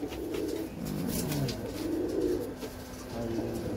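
Pigeons cooing close by in a loft kept by a pigeon fancier, soft repeated rolling coos in overlapping bursts over a low background hum, no talk.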